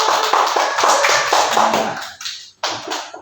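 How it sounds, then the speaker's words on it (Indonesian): A class of students claps together for several seconds, a dense rattle of many hands that thins out and briefly pauses near the end, then resumes. "Tepuk tangan untuk kalian semua"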